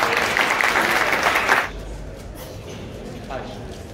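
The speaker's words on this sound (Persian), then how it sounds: "لطفاً تشویقش کنید." An audience at a Rubik's cube competition breaks into a short burst of loud applause that stops abruptly, leaving a quieter room with faint background noise afterward.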